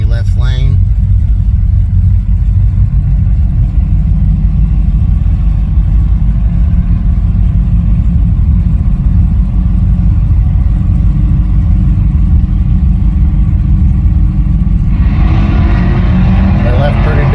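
Drag race cars launch side by side in sportsman foot-brake bracket racing on an eighth-mile strip, a loud, steady engine roar that holds for the whole stretch, with voices talking over it.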